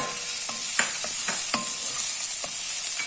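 Sweet potato sizzles steadily in a hot pan while a utensil stirs it, scraping and tapping at irregular intervals over the constant frying hiss.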